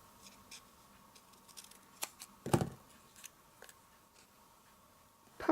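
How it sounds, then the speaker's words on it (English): Scissors snip through paper and card during handmade card crafting with lemon-slice pieces: a few crisp cuts, one stronger mid-clip and another at the end, fairly close over a quiet background. "I may have to cut a bit of this off."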